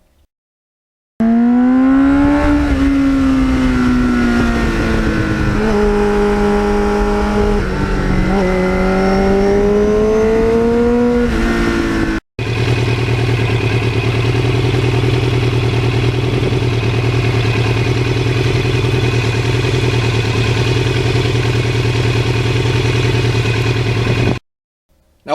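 A 1983 Suzuki XN85 Turbo 750 motorcycle with an aftermarket muffler, ridden with a loud, steady engine drone that rises and falls in pitch, then holds a constant tone after a brief cut.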